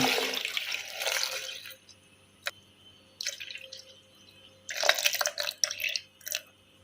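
Milk poured into a juicer jar for a strawberry milkshake in a village kitchen, heard as intermittent splashing, gurgling bursts with a few drips between them, fairly close and with no talk.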